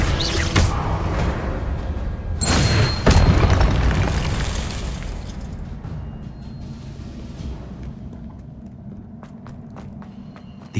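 Confringo blasting spells going off in the Hogwarts Legacy video game, two loud booming bursts close together early on, then a rumbling, fading game soundscape with scattered crackles and footstep-like thuds.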